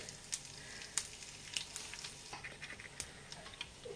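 Mustard seeds, urad dal and dry red chilies tempering in hot oil give a soft, steady sizzle with scattered faint pops and crackles, fairly quiet and close, with no talking.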